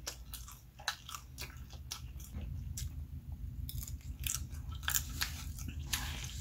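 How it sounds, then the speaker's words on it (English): Crispy fried pork belly crunches under repeated close bites, a rapid series of sharp crisp cracks followed by steady chewing, loud and near with no voices. "When these are fresh, it's crispy and it just bites off like chips"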